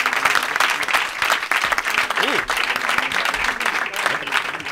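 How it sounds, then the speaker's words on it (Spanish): Studio audience applauding Sonia on a Spanish comedy talk show, a dense, steady wash of clapping with crowd noise and a brief voice sounding midway. "Un aplauso para Sonia."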